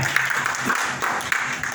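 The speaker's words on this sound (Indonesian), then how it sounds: "Yang percaya beri tepuk tangan buat Tuhan" A church congregation at a service in West Java applauds, a short dense wash of clapping at moderate volume with a few sharper claps standing out.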